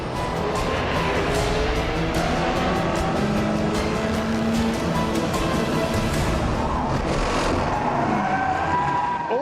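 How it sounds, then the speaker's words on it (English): Race cars, including a Peugeot, roar around a fickle endurance racetrack, giving a loud, continuous blend of engine noise and tire sounds, with pitch sweeps as cars pass close by. "Dumas has moved up 2 positions and is closing in on the number 7 Peugeot"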